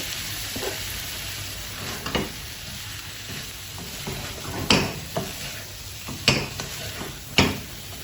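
Pieces of taro (arbi) frying in a little oil in a pan, a steady sizzling hiss broken by several louder bursts of spattering and clinks of a spoon against the pan, close up.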